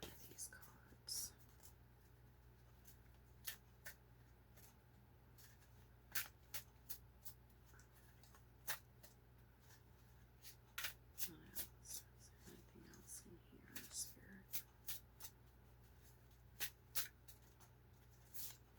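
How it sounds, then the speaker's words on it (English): Tarot cards riffle and slide in soft, intermittent bursts and taps, quiet and close, under a low background hum with whispered-level ambience throughout. "I'm going to pull another one of these cards"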